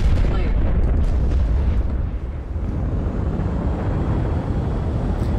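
Ship guns firing in the Star Citizen space game make a dense, continuous rumbling barrage with heavy low-end booms, loud and sustained throughout, with a voice talking over it.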